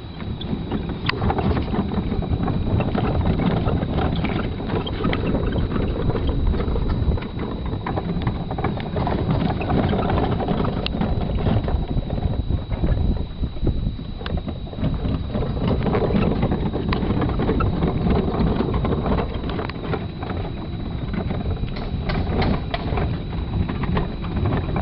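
A golf cart drives at close to 10 mph, with a steady, unbroken rumble and heavy wind buffeting against the microphone the whole way through.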